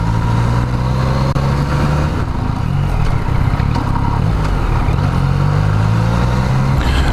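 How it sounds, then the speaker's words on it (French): A modified Renault Super 5 GT Turbo drives by on a road, its engine droning with a steady rising and falling tone, close and loud, with no talk. "une petite Super 5 GT Turbo préparé"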